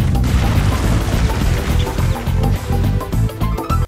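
Loud, dense booms and crashes from a Donkey Kong Country Returns video game scene, with Donkey Kong's ground pound setting off an explosion, over busy game music that keeps a steady, thumping rhythm throughout.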